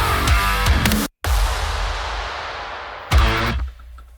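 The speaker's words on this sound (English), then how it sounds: "the last thing I want to put in here are these impacts that we just pulled from Devastator Breakout Pro" Heavy metalcore impact sound effects from Devastator Breakout Pro boom loudly and close, with a few punchy hits, a sudden cut to silence, a long decaying noisy tail, and another burst of hits near the end.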